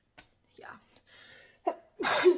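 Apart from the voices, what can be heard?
sneeze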